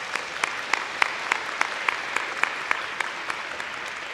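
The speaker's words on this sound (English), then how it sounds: "if we could give another round of applause to our madrigals," Applause for high school madrigal singers at an awards day: a soft, distant, fairly sparse round of clapping with a few sharper claps recurring at an even pace, heard in a large room.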